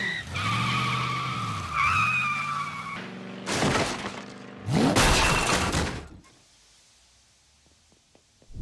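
A cartoon car driven drunkenly skids with long tire squeals, then crashes in two loud, sharp impacts with shattering debris, before fading to near silence.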